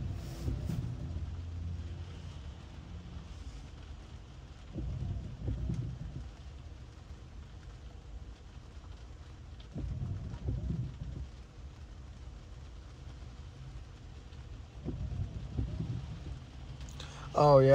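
Rain patters steadily on a Tesla car, heard from inside the cabin, while low rumbles of thunder roll through at intervals and soft background noise persists.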